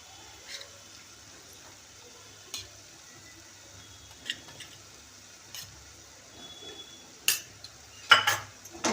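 A spoon stirs and scrapes chicken with homemade masala and chili powder in a pan. Sparse, faint metallic clinks and scrapes sound over a quiet sizzle, growing louder and busier toward the end.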